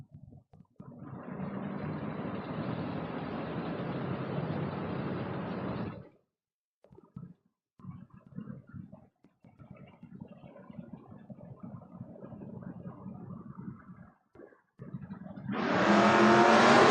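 A Mustang drag race car launching down the strip at a door-car race, heard as a loud engine roar that builds, cuts out and returns in uneven bursts before a high-pitched whine at the end.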